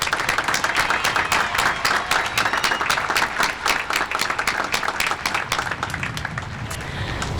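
A crowd at a high school graduation ceremony applauds the class of 2019, with sustained, full clapping from many hands that stays even and loud throughout.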